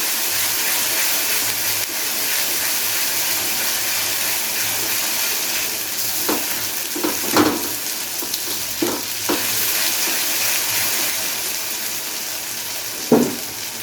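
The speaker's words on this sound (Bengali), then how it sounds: "এবারে পেঁয়াজের সাথে একটু ভেজে নেব ভালো করে," Ginger garlic paste frying with onions in hot oil for a Dhaba-style egg masala, a steady loud sizzle throughout, broken by a few sharp scrapes and stirs of the spoon, no voices.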